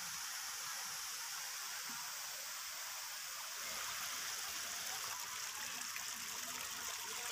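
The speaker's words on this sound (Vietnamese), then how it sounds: "có rất là nhiều dòng suối nhỏ" Small streams trickle from rock crevices at the Suối Mơ eco-tourism site in Đồng Nai, a steady broadband rush of flowing water that grows slightly fuller midway through, with no voices.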